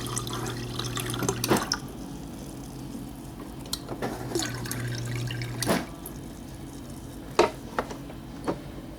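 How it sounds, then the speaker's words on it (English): Water from a GE refrigerator dispenser with slow flow runs in bursts mixed with sputtering air, then breaks into drips and splashes into a container, close and fairly loud, with no talk. "of course there's a lot of air, but look at the water flow."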